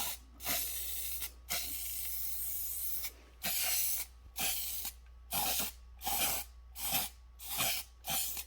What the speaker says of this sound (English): I'm just going to spray paint just the smallest one.